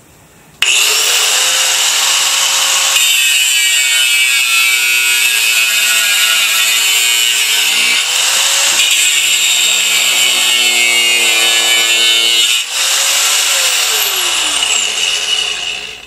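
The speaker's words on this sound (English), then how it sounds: "I take a grinder thing, an angle tool with a cutoff blade," An angle grinder with a cutoff blade cuts bent nails sticking through barnwood, starting with a sudden loud whine, then a long harsh metallic screech whose pitch shifts as it bites, and ending with the motor winding down.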